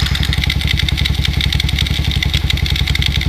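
Kawasaki KLX 110 dirt bike with its choke on, engine running loud and close at a steady rapid thumping idle, intake sucking air, no talk.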